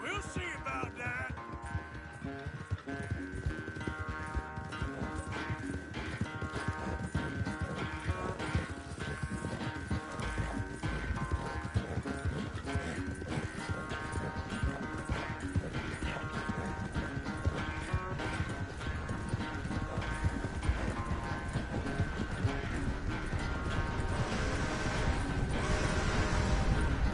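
Rhythmic clip-clop of horse hooves galloping steadily in Red Dead Redemption over a continuous music backdrop, with occasional crashes and no clear talking.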